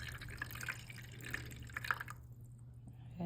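Hot water trickles from a small pitcher into a baking dish around ramekins of crème brûlée, a soft, close pouring and dripping that stops abruptly partway through.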